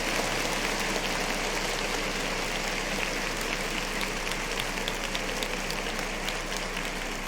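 Steady, dense applause from a crowd in the audience of a hip-hop news show, a continuous wash of clapping at even loudness from start to finish with no speech over it.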